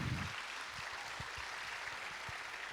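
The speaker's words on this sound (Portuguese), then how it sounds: "Uma salva de palmas para o Senhor Jesus." Church congregation applauding together, a steady faint wash of clapping heard from a distance with no voices over it.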